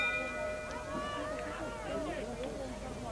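A bell rings during the 1986 Argentine Polo Open final at Palermo, thin ringing tones over a commentator's talk and distant crowd murmur.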